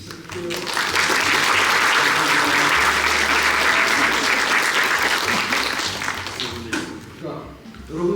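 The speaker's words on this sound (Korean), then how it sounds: "박수부터 먼저 치기 시작할게요." Sustained applause from a large crowd at a university Korean language program graduation ceremony, dense and loud throughout, tapering slightly near the end.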